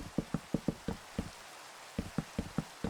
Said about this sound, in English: it does make the rain situation a bit less bearable. God, just listen to that.